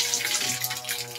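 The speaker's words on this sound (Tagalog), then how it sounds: "kalakas ang tubig ng galing dito sa deep well, yan, ganyan kalakas yan" Strong water gushing from a deep well pump into a pipe feeding a swimming pool, a steady, loud rushing flow that continues without break.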